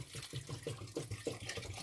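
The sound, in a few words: water poured into a coffee pot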